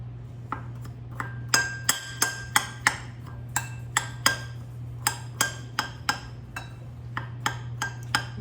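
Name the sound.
stirring cheesecake crumb topping components together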